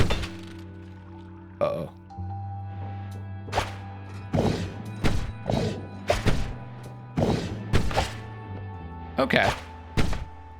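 Magic spells fired in the Noita video game land as a series of dull thumps and cracking impacts over a steady low electronic drone. A voice speaks briefly between the hits.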